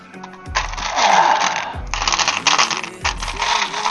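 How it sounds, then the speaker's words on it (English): Dice clatter and roll across a surface in three quick bursts, loud and close, each rattle settling before the next throw. "Feel that clanking? You feel that clanking?"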